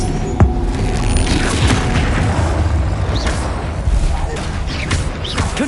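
Spell blasts from Confringo and other combat casting in the Hogwarts Legacy video game, booming bursts layered over a dense, continuous battle soundscape with no clear speech.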